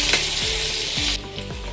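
Potato and carrot sauté in a hot pan with ginger, garlic and onion, a loud steady sizzle broken by a few clanking stirs of the spatula, the frying dropping in intensity near the end.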